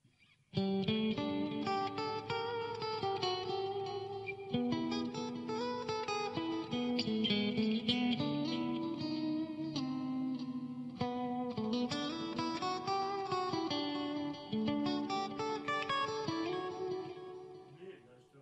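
Clean electric guitar played through a Jet City JCA50H amp on the bridge and middle pickup setting, a chordal passage with ringing sustained notes and smooth changes, sounding clear and alone after a short quiet start.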